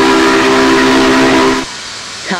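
A loud, steady whistle from the 844 steam locomotive in Train Simulator 2020 sounds a long harmonic blast, then cuts off abruptly, leaving quieter hiss and a brief fading tone.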